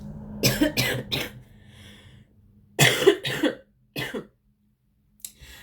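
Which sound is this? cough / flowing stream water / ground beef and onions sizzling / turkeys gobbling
cough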